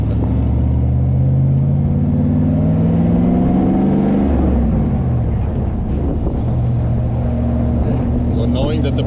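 An Austin Healey 3000 fitted with a V8 engine drives along with a deep, loud engine drone that rises and falls in pitch as it accelerates and shifts, mixed with heavy wind rush.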